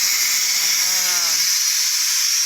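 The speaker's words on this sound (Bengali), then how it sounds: "আর এখানে আমি ছোলার ডাল তরকারি বসিয়ে দিয়েছি প্রেসার কুকারে" A pressure cooker holding chana dal curry hisses steam loudly and continuously at close range, with a voice speaking briefly beneath the hiss.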